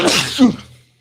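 A single sharp sneeze bursts out close by, followed by a brief fading tail into quiet.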